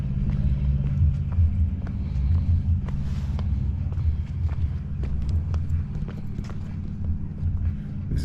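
A car labors up a very steep street incline in the old walled town of Sighișoara, Romania, its low engine rumble steady and close throughout, with faint footsteps and street noise behind it.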